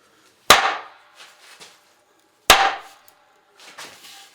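Two sharp, loud hammer blows land on a forged blade during a bend test, spaced about two seconds apart and each ringing briefly, with softer knocks and handling noise between them and no talking.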